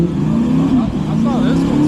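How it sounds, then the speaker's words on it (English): A BMW M550 spinning one wheel at a car show, its engine revving in a steady, loud drone with a rising and falling pitch, voices talking nearby. "I think it's only one wheel spinning."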